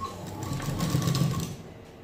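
Sewing machine stitching the middle seam of a prince cut blouse, a steady, close motor whir with rapid needle clatter lasting about two seconds, heard alone.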